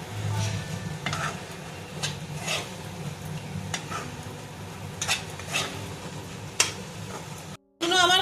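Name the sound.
stirring spinach and radish greens with cumin in a pan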